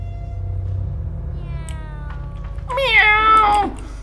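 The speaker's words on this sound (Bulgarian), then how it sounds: "Мяу!" A cat in a video game lets out a single loud, drawn-out meow that rises and falls over a steady low electronic hum.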